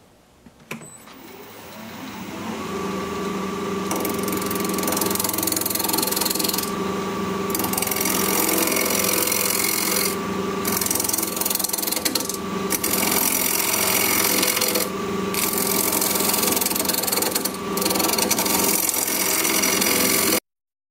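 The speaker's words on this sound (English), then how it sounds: "I guess we'll go with the 2-inch roughing gouge." Wood lathe turning a ginkgo biloba salt cellar blank with a 2-inch roughing gouge, a loud steady motor hum with scraping cuts and brief gaps, running close and alone for about twenty seconds before stopping abruptly.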